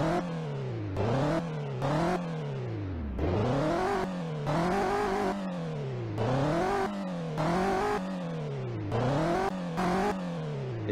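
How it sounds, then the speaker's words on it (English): A car engine in a car company tycoon game revs repeatedly, climbing in pitch and dropping back in a steady cycle of rising and falling sweeps, with a synthetic, game-like tone. "Let's hear this motor or this engine."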